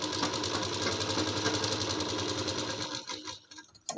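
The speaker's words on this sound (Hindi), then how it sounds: "उसके बाद सिलाई लगाते जाना है" A sewing machine stitches a girl's kurti in a steady, continuous whirring run. The run is close and fairly loud and breaks off in a few uneven stops near the end.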